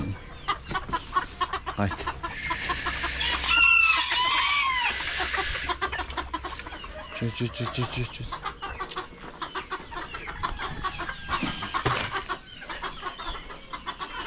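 Excited clucking and squawking from roosters being caught from a flock, with a crow rising midway, close and busy, brief spoken words mixed in.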